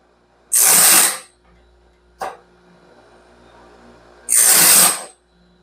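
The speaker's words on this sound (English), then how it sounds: "It's grinding all the gullet out. I'm grinding at 7 degrees." Grinder sharpening the gullets of a stellite insert bandsaw blade for a Norwood HD36v2 sawmill, two loud hissing grinding passes about a second long with a short scrape between them, close and alone.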